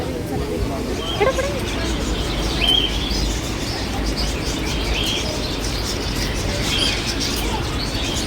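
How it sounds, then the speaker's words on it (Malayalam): Birds chirping and tweeting amid a busy outdoor hubbub near a Hanuman temple, with scattered short calls over steady crowd noise and distant voices. "പക്ഷികളുടെ ശബ്ദം കേൾക്കുന്നുണ്ടോ?"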